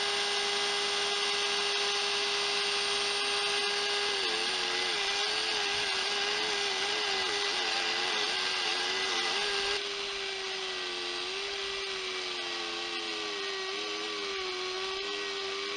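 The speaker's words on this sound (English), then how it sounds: "I got out my homemade router table to put a chamfer on all of the edges." A homemade router table chamfers the edges of wooden coasters, giving a loud, continuous high whine with a steady pitch that dips slightly as wood is fed through, with no speech.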